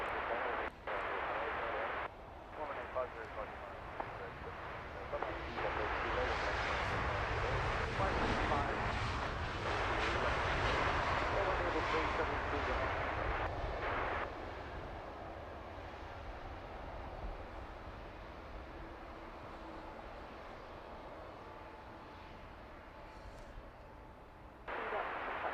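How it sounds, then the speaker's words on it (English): An Austrian Airlines jet from Vienna touches down at London Heathrow, a broad, distant roar swelling and fading under outdoor wind while people talk. "That Austrian touching down from Vienna."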